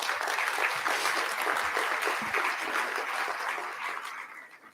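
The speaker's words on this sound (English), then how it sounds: "I think that deserves a round of applause." Audience applause for sponsors at a politics forum, dense continuous clapping that gradually fades toward the end.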